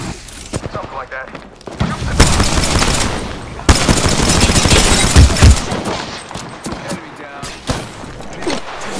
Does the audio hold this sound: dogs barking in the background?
no